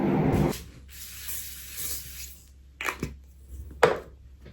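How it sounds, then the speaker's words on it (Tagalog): Moisture care spray is misted after a bath in about three short, sharp hissing bursts, the first longest, with quiet pauses between them. "nag-spray ako nitong moisture care"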